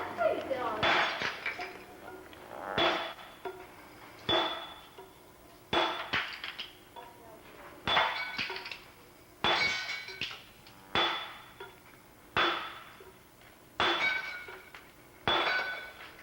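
Hammer blows on stone being split along a scored line, a dozen sharp ringing strikes at a steady rhythm of about one per second, each with a short metallic clang and decay, close and loud.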